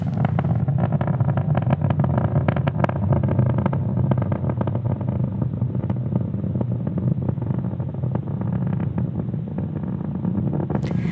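SpaceX Falcon 9 rocket engines during ascent, heard as a continuous loud rushing roar with crackling texture that holds steady throughout, with no voices over it.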